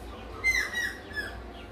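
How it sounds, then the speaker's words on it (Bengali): A bird calls outdoors with a few faint, brief chirps spread over a quiet background. "পাখি ডাকছে, বলছে মেঘ হ"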